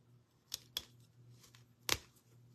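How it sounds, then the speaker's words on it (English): Scissors snip through burlap during a craft session, with two quick cuts and then one sharper, louder snip close by against faint background hum, and nobody talking. "then I'm going to cut the burlap down to size"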